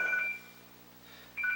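A telephone rings twice in short electronic bursts, one at the start and one near the end, with a quiet pause between them and no talking.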